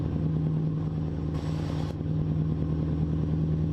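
Heavy truck engine, roughly 400 horsepower, rumbling steadily through a raspy straight-pipe exhaust, with a strong low drone held close and loud for the whole stretch and a brief hissy burst partway through.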